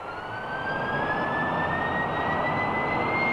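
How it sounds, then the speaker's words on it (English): Port outboard gas turbine on a Royal Navy warship spooling up, a loud continuous roar with a steadily rising high whine that climbs in pitch throughout. "About to run up the port outboard gas turbine."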